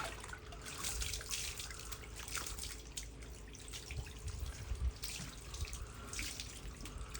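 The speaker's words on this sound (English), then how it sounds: "So what I'm trying to do now is rinsing her body." Water running steadily from a tap or hose, splashing as a dog's body is rinsed during a bath, a continuous close wash with small surges and drips and no talk.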